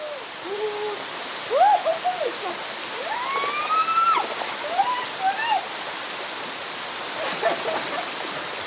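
A mountain valley stream flows steadily as a broad, constant wash of water, with birdsong chirping and whistling over it in scattered bursts.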